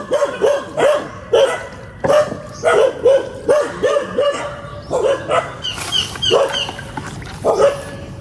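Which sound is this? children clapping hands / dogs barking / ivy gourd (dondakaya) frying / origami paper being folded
dogs barking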